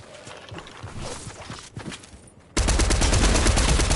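Fortnite gunfire crackles in a quick rapid burst of shots, then a louder sustained stretch of dense firing and game noise takes over, with no talking.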